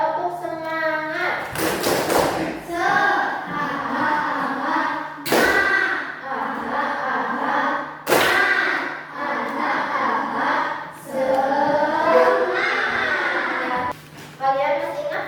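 Children in a classroom perform a rhythmic clapping chant, sharp loud claps in patterned bursts between stretches of chanted voices, the whole group close and energetic.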